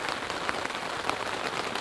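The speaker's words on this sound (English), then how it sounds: "That's rain hitting our tent" Steady rain drums on a tent set up outdoors in Baltimore, a dense continuous patter with scattered louder drops, close by and alone without talk.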